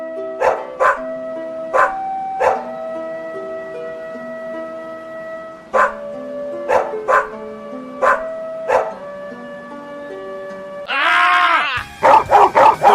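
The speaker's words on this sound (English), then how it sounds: "We need the dog intro one last time." A dog barks in short bursts, single yaps and quick doubles spaced across a quiet background, then a sustained tonal blare and a cluster of rapid barks close out the sequence.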